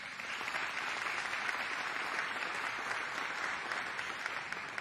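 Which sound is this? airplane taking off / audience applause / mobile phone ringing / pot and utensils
audience applause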